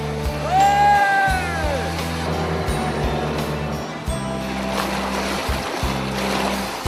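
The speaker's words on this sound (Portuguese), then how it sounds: "na represa do Passaúna, a nossa navegação vai ser no barco a motor" A motorboat cruises across the Passaúna reservoir, its engine droning steadily with a low rhythmic throb and broad water wash, while a brief wavering high tone rises and falls near the start.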